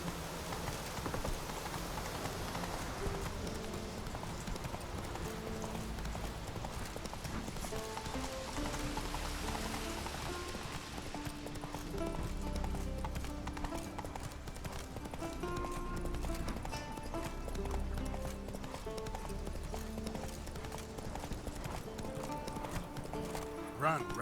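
The horse Roach gallops in The Witcher 3 with steady clip-clop hoofbeats and a possible whinny, set against a constant wash of rain and game ambience.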